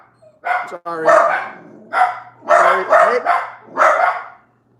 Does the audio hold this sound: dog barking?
yes